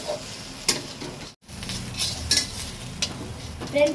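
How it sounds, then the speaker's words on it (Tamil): Egg sizzles in a pan while being stirred for egg idli upma, with a steady frying hiss, repeated spatula scrapes and clinks, and a brief drop to near silence midway; close and fairly loud, no talking. "அது வரைக்கும் வதக்கிட்டே இருங்க"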